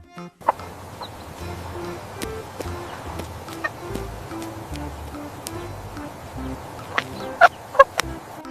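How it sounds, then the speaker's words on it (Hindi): A hen clucking in short, faint bursts, with a few louder calls near the end over quiet background sound. "हैन को हिंदी में मुर्गी कहते हैं।"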